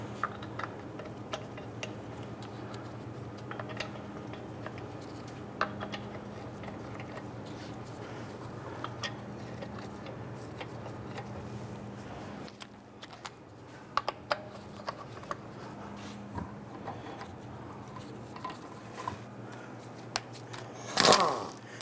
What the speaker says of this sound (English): Let's go ahead and install our lug nuts.